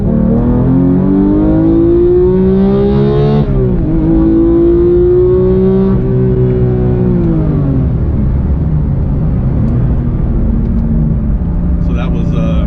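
A 2018 Porsche 911 GT3 with a manual gearbox roars loudly and close, its engine pitch dropping and flaring as it downshifts from fifth to second with throttle blips, the tone steady and rising again afterward.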